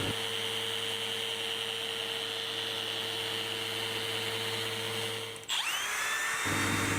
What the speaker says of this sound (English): it's back to sanding. So 180 grit all over the board, including the handles